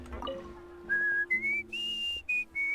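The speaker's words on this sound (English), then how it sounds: "Whistling? In a good mood, I see." Whistling in Genshin Impact, a bright tuneful run of rising and sliding notes in short phrases, clear over a soft in-game music bed.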